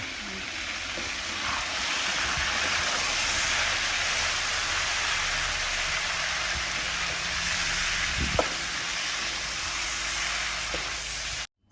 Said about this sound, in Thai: จากนั้นก็ผัดนะยาย